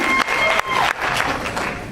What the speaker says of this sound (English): How about a big round of applause for Miss Natasha, all the way from Albertville, Alabama.